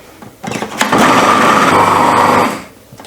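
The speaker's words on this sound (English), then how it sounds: "I'm just gonna put my lid on and I'm gonna blend this until it's becoming more uniform in kind of in texture" A countertop blender whirs loudly and steadily for about two seconds as it blends a seitan meatball mixture, with a quick ramp up and a tapering stop; no speech.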